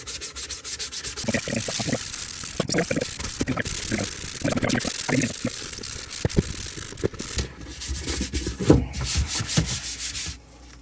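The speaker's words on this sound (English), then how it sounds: "so it's not an hour video of me just sanding this" Continuous scratchy rubbing of sandpaper against a hard 3D-printed mask, uneven back-and-forth strokes, close up, with no talking.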